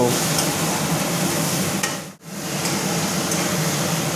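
Sizzling and scraping as egg curry masala is stirred in a hot wok, steady and close, with a brief drop-out near the middle before the frying hiss resumes.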